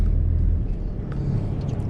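A car travels along a coastal road past redwood forest in California, a steady close engine and road rumble running continuously without break.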